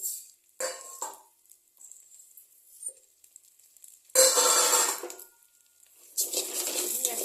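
Scented Joha rice, soaked and dried, is stirred in a cooking pot for chicken biryani, giving scraping, rattling pot-and-utensil sounds in short bursts with quiet gaps, then two longer stretches of louder sizzling scrape.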